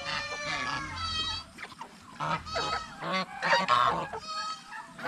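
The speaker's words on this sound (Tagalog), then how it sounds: "Yung gansa natin oh." A goose honks repeatedly in loud, harsh bursts, with other poultry clucking and calling close by.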